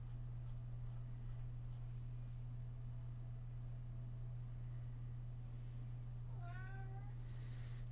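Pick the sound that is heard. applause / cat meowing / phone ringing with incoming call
cat meowing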